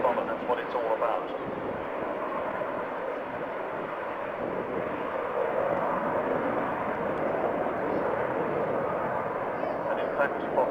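An Avro Vulcan XH558 bomber flying an air display gives a continuous broad, rumbling jet roar that stays steady throughout, with a voice speaking faintly beneath it.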